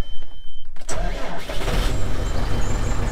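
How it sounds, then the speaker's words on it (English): A small McCormick tractor engine cranks briefly, then catches and settles into a loud, close, steady idle with a rough, chugging rumble. "I must say, she's a great little tractor to start."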